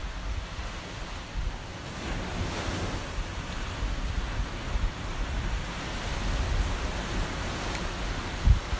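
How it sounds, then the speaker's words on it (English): Morning ocean waves wash steadily onto the shore, a continuous broad surf rush with gentle swells and light wind buffeting the microphone, no voices present. "The waves are excellent this morning."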